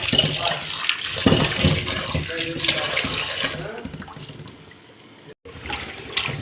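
Tap water runs steadily and splashes into a sink while small chala fish are washed for a Sunday fish curry. The flow is close and continuous, then thins to a softer trickle near the end.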